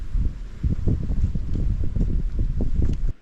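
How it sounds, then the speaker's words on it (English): Strong gusts buffet the microphone in a continuous low roar, swelling and surging in uneven bursts with no talking, on the high mountain route of Digar La in Ladakh. "It is super windy"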